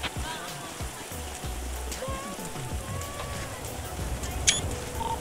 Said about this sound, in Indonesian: Lu gara-gara yang tadi nyebut Saka, lu jadi hujan nih.